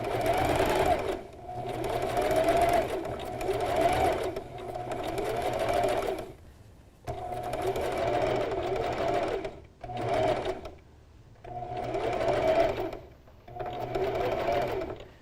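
A sewing machine zigzag-stitches a fleece lining into a crocheted hat, running in steady whirring bursts of several seconds each, separated by short pauses, loud and close with no talk over it.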